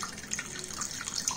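Water poured steadily into a cooking pot while preparing rasam, a South Indian soup, producing a continuous close splashing trickle with no talk.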